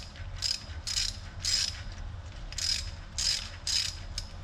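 A ratchet clicks in quick bursts as a crankshaft part is tightened by hand, seven short rasping strokes with brief pauses between, close and fairly loud with no talking.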